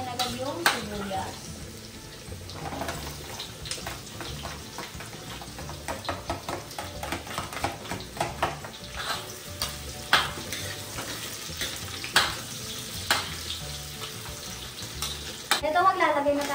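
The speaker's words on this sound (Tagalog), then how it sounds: "Eto, mainit na yung ating mantika. Magigisa na tayo ng bawang." Garlic and onion sizzle in hot oil in a pan for Filipino-style spaghetti, with steady frying crackle and repeated spatula scrapes and knocks against the pan, close and clear, with no talking.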